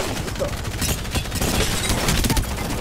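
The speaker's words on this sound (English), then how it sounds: "Ah, that's an airstrike." Airstrike in the Apex Legends video game, heard as a dense, continuous barrage of rapid booms and gunfire-like cracks filling the whole short stretch.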